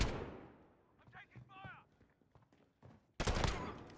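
A shotgun fires in the Gunfight mode of Call of Duty Modern Warfare's early alpha: a loud blast that cuts in near the end after quieter game effects and scattered clicks.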